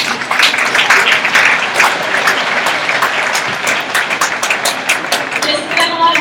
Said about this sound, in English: give these kids a round of applause for all the work that they've done